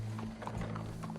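A horse in the Red Dead Redemption 2 video game, with soft hoof clip-clops and faint snorting close by, set over a steady low in-game ambient hum.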